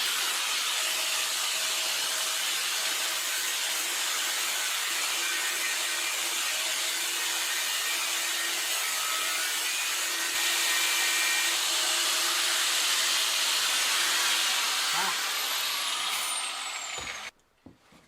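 An angle grinder cuts into the front of an Altra bicycle frame, producing a loud, continuous high-pitched metallic whine and hiss that holds steady for many seconds before cutting off abruptly near the end.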